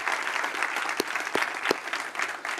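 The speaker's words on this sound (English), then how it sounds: "I'd like to give Errol a round of applause for organizing this conference." A conference audience at a summit welcome session claps in a dense, steady round of applause, with a few sharper individual claps standing out through the brief burst.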